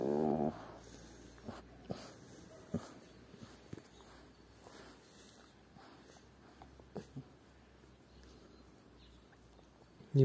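Semi-stray dogs at a rural property on an October morning make intermittent snorts, low growls and wheezy breathing. A louder burst opens and ends the stretch, with quieter scuffling in between.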